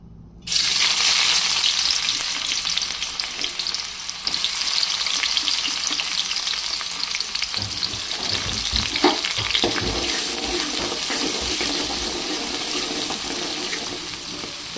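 Chopped onions frying in a pan for a dried prawn and tomato curry, a steady close hiss and sizzle with occasional spoon stirs and scrapes, continuous and fairly loud throughout with no talking.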